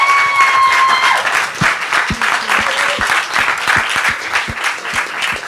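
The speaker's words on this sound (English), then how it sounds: "Please give her a round of applause. In fact, she deserves a standing ovation." Audience applause rising into a standing ovation, dense sustained clapping from a crowd filling the room, steady and loud throughout.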